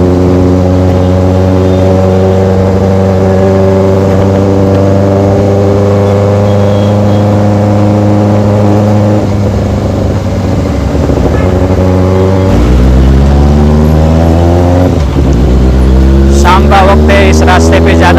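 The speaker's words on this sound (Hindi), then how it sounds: "कोई भी बेनेली का मॉडल हो इनलाइन 4 सिलेंडर, उसका साउंड इतना ज़्यादा काफ़ी लाउड होता है" A 2023 Benelli TNT 600GT inline-four motorcycle fitted with an Ixil exhaust idles loudly and steadily up close, then is revved in several rising and falling bursts toward the end.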